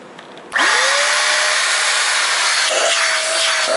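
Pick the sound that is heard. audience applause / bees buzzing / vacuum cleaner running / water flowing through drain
vacuum cleaner running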